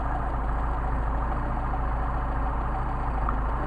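A Mercedes 190SL engine idles steadily with Solex carburetors during idle mixture adjustment, giving a continuous low, even rumble with no break and no voices.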